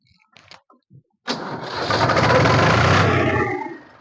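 An HMT 3522 tractor in good original condition cranks and fires, its engine catching after a few faint knocks and settling into a loud, close, rattling run that fades slightly at the end.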